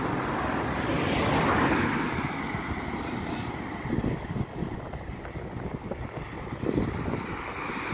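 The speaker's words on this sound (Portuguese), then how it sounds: "O vento tá contra, galera." Strong headwind roars against a cyclist pedaling on a road, a loud, continuous rushing buffet on the microphone that swells and dips without any voices.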